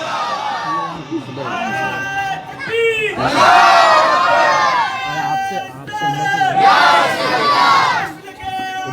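A large religious gathering at an Urs shouts back in unison to the Naara-e-Takbeer slogan call, loud massed voices rising in two big surges after a leader's calls.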